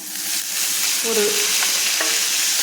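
Curry leaves sautéed in a pan with softened onions for chutney, a steady close sizzling hiss with a few faint stirring knocks, brief and without voices.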